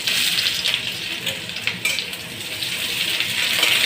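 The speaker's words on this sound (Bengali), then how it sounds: "এবার ফোড়নে দিয়ে দেবো কালো সরষে, শুকনো লঙ্কা, কুচনো পেঁয়াজ।" Black mustard seeds, dried chillies and chopped onion crackle and sizzle in hot mustard oil, a steady close frying hiss with small pops and occasional stirring scrapes throughout.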